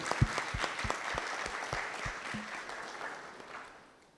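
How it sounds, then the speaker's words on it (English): An audience at an actuarial society annual convention in Zimbabwe breaks into applause, a few sharp individual claps leading into a moderate round that thins and fades out toward the end. "May we please give her a loud round of applause."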